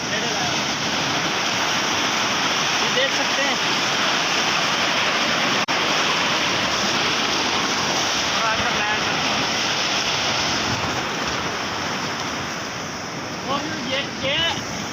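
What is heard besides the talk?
fast flowing canal water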